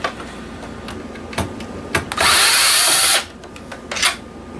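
A power screwdriver whirs in one loud burst of about a second while backing screws out of an old PlayStation, framed by scattered clicks and handling knocks of the console parts.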